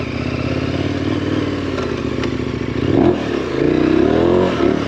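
A dual-sport or adventure motorcycle skidding through a turn on level dirt ground: a loud, close engine drone with a rising rev and rear-tire scraping and clatter near the end, no talk.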